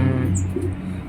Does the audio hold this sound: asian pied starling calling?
yes